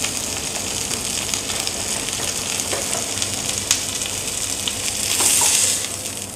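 A Rosedale tomahawk steak from Australia sears on a stovetop with a steady, close, crackling sizzle that runs unbroken throughout, briefly swelling louder near the end, with no one speaking.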